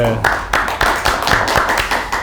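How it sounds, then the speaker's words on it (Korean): A small group at an interview-style talk event claps in a steady rhythm, with sharp, fairly close hand claps repeating at regular intervals throughout. "박수 한번 드릴까요?"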